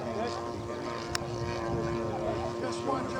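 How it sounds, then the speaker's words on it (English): A radio control model biplane drones overhead at a model aircraft event, its engine a steady buzzing hum from mid-distance, with a brief click and faint background voices. "That's a beautiful, beautiful biplane."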